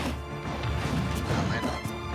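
A heavy smash attack lands in a Super Smash Bros match, a loud crunching impact burst over dense game noise and crowd roar, with a couple of sharp hits in quick succession.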